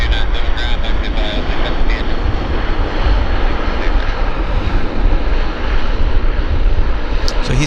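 A loud aircraft engine drones steadily as a plane taxis along the Lima taxiway at Vancouver Airport, a close, sustained roar with a brief voice fragment near the end.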